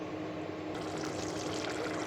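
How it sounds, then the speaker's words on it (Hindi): Boiled white lobia cooking water is poured into a spiced masala, a soft, steady splashing trickle heard up close with no talk. "मैं फिर वही पानी डालूँगी।"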